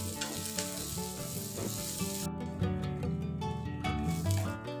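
Chopped onion frying in a pan, with a steady soft sizzle that fades after the first couple of seconds beneath prominent background music.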